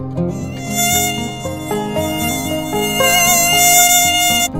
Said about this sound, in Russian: комар,